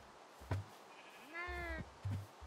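Minecraft sheep let out a single wavering bleat, clear and close, between soft game footstep thuds in a quiet scene.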